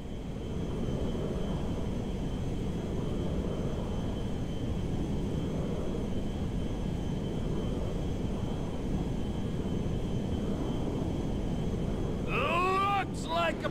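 Jet aircraft engine roaring steadily in GTA5 during a flight, a loud continuous broadband drone throughout, with a short radio-like voice chirp near the end.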